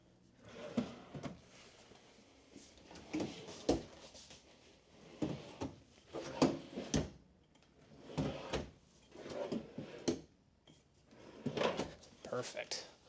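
A series of soft-close kitchen drawers in a 2025 Forest River Sandpiper 421FKL travel trailer are pulled and glide shut, giving repeated muffled sliding thumps at a steady pace, close by, with someone talking between them.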